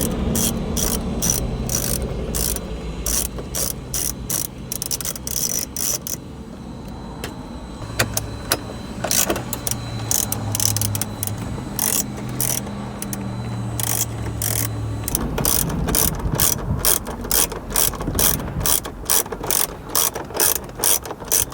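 Ratchet loosening bolts to remove the factory radio from a Toyota Highlander, a close, crisp rapid clicking in repeated bursts with short pauses between strokes.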